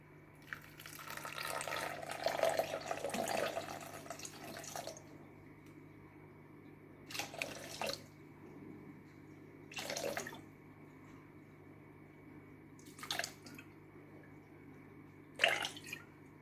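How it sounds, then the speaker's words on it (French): Water is poured from a bottle into a cooking bowl on a scale, a splashing pour of a few seconds followed by several short separate trickles and splashes against a quiet background. "je vais me prendre ma bouteille d'eau et mettre 200 g d'eau"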